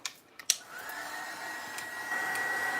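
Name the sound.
heat tool drying graphite paste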